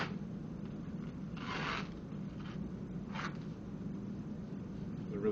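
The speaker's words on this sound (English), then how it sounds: "we have to tape this right onto the skin as best we can" Athletic tape strips from the roll and presses onto skin above the ankle for an Achilles tape job, with two short, faint ripping rasps over quiet room murmur.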